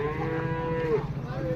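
At a livestock market selling calves and crossbred cows, a cow gives one drawn-out, close, loud moo over a low background murmur.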